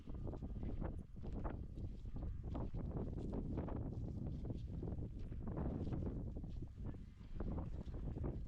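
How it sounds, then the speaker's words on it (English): Steady, blustery wind buffets the microphone throughout, a dense low rumble with rustling gusts and no talking. "it's getting windy"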